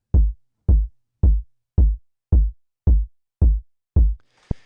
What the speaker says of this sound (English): would be a fatter kick. It's more in your face